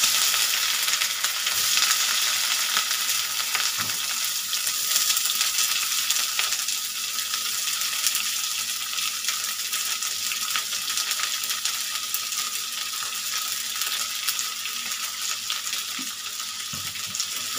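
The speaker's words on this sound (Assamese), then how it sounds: "পিঁয়াজখিনি ভজা হৈ গ'ল" Onions fry in oil with bay leaf and two dried chillies, a loud continuous sizzle with occasional stirring clicks, and no voices over it.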